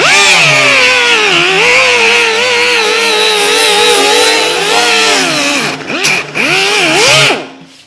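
A power sander strips paint from the steel body of a 1932 Ford ahead of body filler, a loud steady whine that wavers in pitch, dips briefly near the end and then cuts off.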